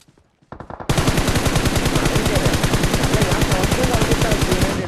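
A fast, sustained burst of gunfire from a shotgun in PUBG Mobile on the Livik map, loud and close, following a few brief quieter shots at the start.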